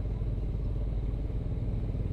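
A motorcycle rides through slow, congested traffic, its mid-pitched engine running steadily and fairly close with low rumble throughout.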